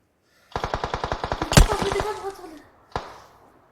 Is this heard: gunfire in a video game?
yes